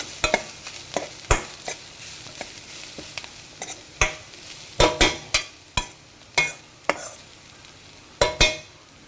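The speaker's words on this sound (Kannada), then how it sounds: "ಇದಾದಮೇಲೆ ಒಂದೇ ಒಂದು ಸ್ವಲ್ಪ ಗರಂ ಮಸಾಲಾನ ಹಾಕ್ಕೊಳ್ಳಿ ಇದನ್ನು ಕೂಡ ಹಾಕಿಬಿಟ್ಟು ಈ ರೀತಿಯಾಗಿ ಫ್ರೈ ಮಾಡಿ" Bread masala toast mixture seasoned with garam masala fries in a pan, a steady low sizzle broken by a dozen sharp, close spatula scrapes and clacks in an uneven rhythm.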